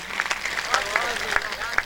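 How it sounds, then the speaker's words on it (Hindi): Applause from an audience at an all-India poetry gathering honouring martyrs, a steady wash of hand claps with a few sharper nearby claps standing out, speech murmuring underneath. "एक बार तालियां वालियां बजा दो"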